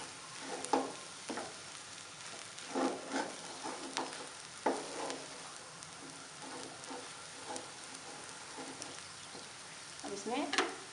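Potatoes for aloo kachori filling frying in a pan, with a soft steady sizzle under repeated light scrapes and taps of a spoon stirring, close and fairly quiet.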